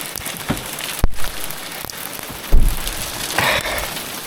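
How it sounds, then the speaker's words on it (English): Rain falling mixed with bits of hailstone, a steady broadband patter and hiss on surfaces outdoors, broken by a couple of louder knocks and thumps near the mic. "Told you there was hailstone in the rain."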